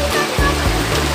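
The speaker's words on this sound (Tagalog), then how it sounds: "Wow, tabi yung ilog." A river flows steadily and close by, a broad, continuous rushing of water with low rumbling surges, heard on its own without talk.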